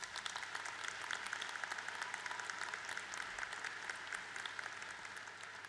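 Steady, fairly faint applause from a commencement audience at a Drexel University College of Engineering graduation, a dense even patter of many hands clapping without letup.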